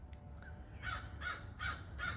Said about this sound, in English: You can hear the crows calling again.